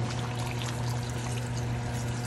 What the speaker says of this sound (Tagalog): sabay natin yung tubig para ating palambutin